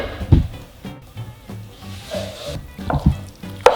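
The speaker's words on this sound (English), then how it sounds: "Now I'm gonna mix it." Rice being stirred into marinara sauce in a pan, a few scraping knocks from the utensil with a soft sizzle underneath, close and moderately loud over a musical background.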